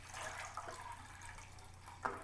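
Hot water pours into a measuring cup in a soft, steady trickle with light splashing and a brief louder splash near the end, faint and close, with no talk.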